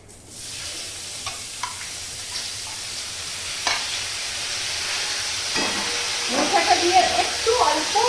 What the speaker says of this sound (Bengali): এই যে মোচাটা যখন ভাজছি না